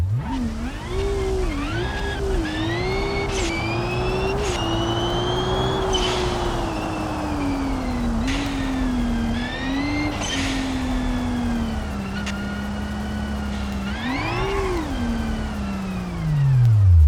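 Car engine in BeamNG revving hard and steadily in a high gear around 45 mph, its rising and falling whine loud and close for the whole stretch, with a sharp surge near the end.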